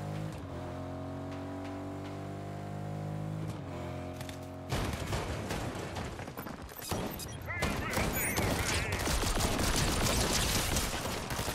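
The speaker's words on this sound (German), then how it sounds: "da schießen irgendwelche zwei aufeinander" Fortnite gunfire as two players shoot at each other: a tonal music-like passage gives way to dense, rapid bursts of shots that grow louder and more continuous toward the end, with a player's voice talking over it.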